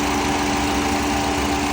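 A Ford Taurus SHO engine idles steadily just after a restart, with the air conditioning on, producing a close, loud, even hum with no variation.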